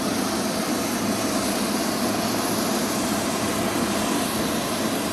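Aircraft engines of Trump Force One, the president's plane, drone loudly and continuously in a broad steady roar at a rally site, with no voices over it.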